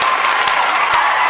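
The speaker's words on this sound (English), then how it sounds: "Let me get a round of applause, man." A studio round of applause, a steady broadband wash of clapping with no breaks, close and fairly loud for just over a second.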